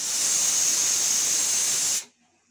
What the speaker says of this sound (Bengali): আমি 2 সিটি দিয়ে দেব